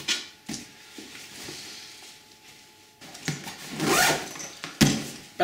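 Zipper on an Osprey Rolling Transporter rolling duffel bag, pulled in several short, scratchy runs with pauses between, close and fairly loud, ending in a longer, stronger drag.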